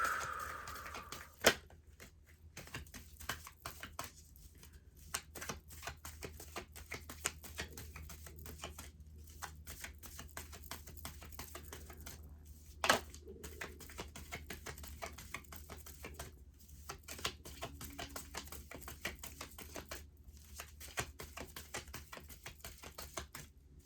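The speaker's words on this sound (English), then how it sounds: "Take a minute to shuffle here." A Wisdom of the Oracle card deck being shuffled by hand, producing soft, rapid pattering and flicking with occasional sharper snaps, close and quiet, with no talking.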